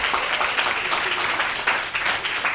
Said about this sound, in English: That was worth a round of applause.